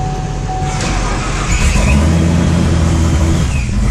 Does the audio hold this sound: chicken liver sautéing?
no